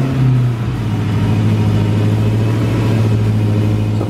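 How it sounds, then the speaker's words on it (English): A Dodge Challenger Hellcat engine idles steadily after starting up following an oil change, a loud, deep, continuous rumble with a brief higher rev at the very start. "And then fire up the car to check for any leaks."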